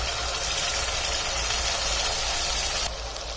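Cashew-tomato paste sizzling as it hits fried onions in a pan for bhindi tikka masala, a steady loud hiss that drops off sharply near the end.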